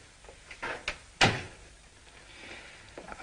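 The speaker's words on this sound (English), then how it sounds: "Close the door." An interior door pushed shut in a 1961 drama, one sharp thud-like knock standing out clearly against a quiet room, preceded by a couple of softer handling bumps.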